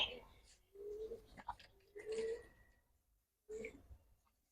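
Pigeons from a collection of Giribaz and high-flyer breeds coo in several low, rounded phrases with pauses between them, close by, while someone talks over part of it.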